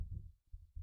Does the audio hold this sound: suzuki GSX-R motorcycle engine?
no